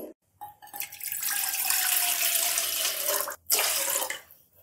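About two cups of water poured in a steady, continuous stream for sugar or jaggery syrup for a wheat-flour halwa, loud and close, with a brief break near the end before pouring resumes.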